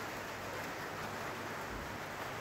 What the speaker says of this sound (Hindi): बहुत खूबसूरत बारिश है,